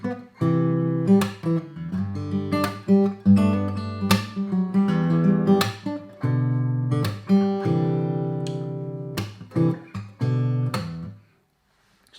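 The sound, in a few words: acoustic guitar playing pop chord progression faster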